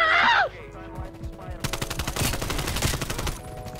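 Rapid AK74u gunfire in Call of Duty: Cold War multiplayer, a dense run of shots after a brief electronic chirp, loud and close and mixed with game effects.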